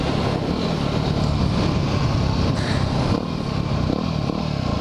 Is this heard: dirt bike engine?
yes